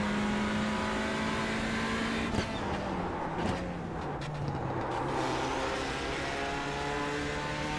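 A race car engine in the sim racing game Le Mans Ultimate, hard on throttle, its tone sweeping down and back up through gear changes with a clear shift near the middle, loud and continuous with no voices.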